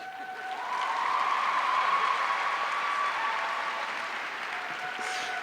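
A large audience at a high school graduation ceremony breaks into loud, sustained clapping that rises quickly, holds steady, and slowly tapers, heard from within a big hall with a faint tonal hum.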